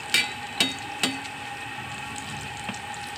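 Sweet burelu dumplings frying in hot oil, a steady close sizzle with a few sharp clinks of a utensil against the pan near the start and one more later.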